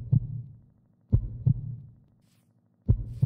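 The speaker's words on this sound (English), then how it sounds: "There's a heartbeat." A low, thudding heartbeat in the Minecraft video game pulses in double beats, lub-dub pairs separated by pauses of over a second, loud and clear with no talk over it.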